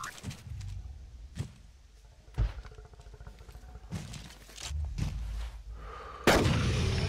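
Several gunshots ring out at irregular intervals in Carnivores Dinosaur Hunter Reborn, a dinosaur-hunting game; the reports are moderately loud with low rumbling tails, and a sharper, louder blast comes near the end.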